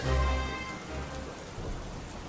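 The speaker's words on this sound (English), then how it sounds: "The rain was coming down harder" Steady rain pours down, a dense continuous hiss of drops with a deep low rumble swelling briefly near the start.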